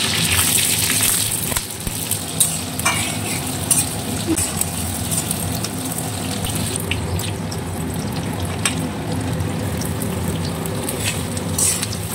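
Chopped garlic and ginger hit hot oil in a kadai that was just used to fry chicken, giving a loud, dense, continuous sizzle that stays steady from start to finish with no voices.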